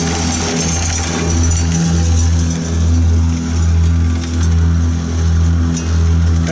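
A sand and salt spreader runs its auger, spinner and vibrators as material flows. The result is a loud, steady mechanical drone with a regular throbbing pulse roughly every second.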